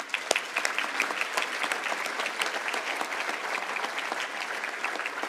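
An audience applauds at a lifetime achievement award ceremony, a moderately loud, even wash of many hands clapping with a few sharper individual claps standing out, and no speech.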